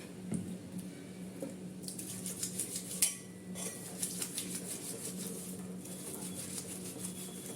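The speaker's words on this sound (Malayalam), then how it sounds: "നന്നായിട്ടൊന്ന് തേച്ച് കൊടുക്കാം." Steady metallic scraping and clinking of a brass vessel being scrubbed with dishwashing liquid, close up, with faint water sounds and occasional sharper clanks.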